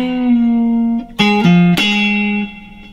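An electric guitar plays a short blues riff alone: a sustained note, quick picked notes with a bend, then a held tone that fades.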